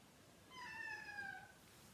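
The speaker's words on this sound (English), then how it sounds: "my cat's now here" Single faint drawn-out meow from a pet cat indoors, rising then falling, heard alone against quiet room hiss.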